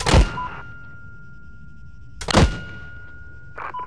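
Mortar rounds fired in the Arma military game, two sharp loud booming launches a couple of seconds apart, each with a ringing tail, followed by a fainter third thump.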